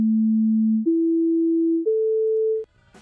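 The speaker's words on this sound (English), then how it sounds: "these are just pure sine waves at various frequencies" Pure sine tones passed through an SSL E-channel strip plugin, three steady test tones stepping upward in pitch, each holding about a second, loud and clean before cutting off into faint noise.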